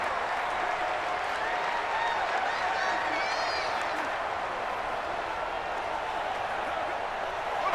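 Loud stadium crowd noise in a college football video game roars continuously, a dense wash of cheering and shouting with a few higher whistles rising out of it.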